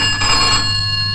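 An old-fashioned electric telephone bell rings continuously and loudly in a laboratory setting, a steady metallic trill held throughout over a low mains-like hum.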